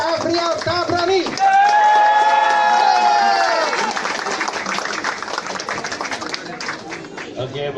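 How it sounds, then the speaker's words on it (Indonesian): An audience at a business event bursts into loud applause and cheering, with whoops and shouted voices over dense clapping that gradually thins out toward the end. "Sekali lagi, berikan tepuk tangan yang meriah."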